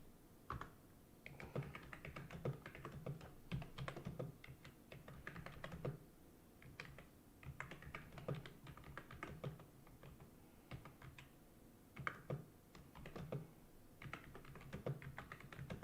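Someone types on a computer keyboard at close range: quick runs of clicking keystrokes broken by short pauses, steady and fairly soft, with no talk.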